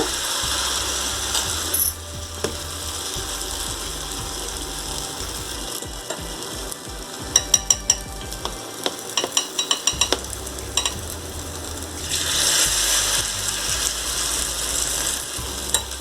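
Batter-dipped idli pieces frying in a pan for chilli idli, a continuous sizzle broken by a series of sharp clacks and rattles as the pieces are turned.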